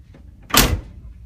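A 1986 Chevrolet Monte Carlo G-body door shuts once with a solid, close thud, preceded by a faint click and followed by a short settling rattle.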